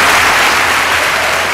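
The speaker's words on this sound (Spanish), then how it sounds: "Aplauso." Steady applause from an audience at a Dominican awards-style tribute, dense and continuous clapping filling the whole moment without speech.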